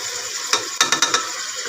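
A thick tomato, green chili, ginger and garlic paste hits a hot karahi for chicken karahi with a burst of sizzling, followed by several quick scraping stirs, close up and without talking.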